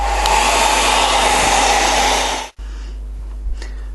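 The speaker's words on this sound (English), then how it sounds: "back with the hairdryer before this creates problems for us" Hair dryer blowing steadily and loudly close by while drying a wet watercolor painting of distant hills and mountains, cutting off abruptly near the end and restarting more quietly as a lower hum.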